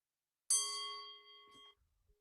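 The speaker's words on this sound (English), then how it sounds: "I will make use of a bell," A meditation bell struck once, a single clear, close ding that rings with a bright shimmering tone, then decays steadily into silence.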